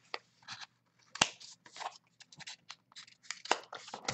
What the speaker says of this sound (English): I'm just going to give each corner a little snip to speed this up.